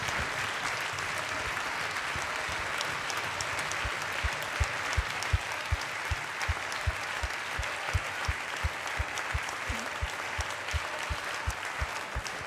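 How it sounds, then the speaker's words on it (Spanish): Steady applause from a theatre audience at a Christmas gospel concert in Vitoria, with a regular pulse of rhythmic clapping running throughout at an even, moderate level. "me gustaría que le diéramos un fuerte aplauso"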